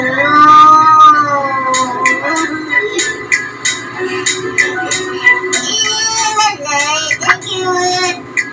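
Cats meowing and caterwauling in a home, with drawn-out wavering cries and a string of shorter calls near and fairly loud, a little mixed with other household noise.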